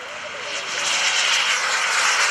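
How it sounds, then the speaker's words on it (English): An FLS Microjet small jet aircraft on its takeoff roll at an airshow, a loud, steady whine and roar that swells slightly as it accelerates, with no gaps. "they call it the FLS Microjet on the takeoff roll"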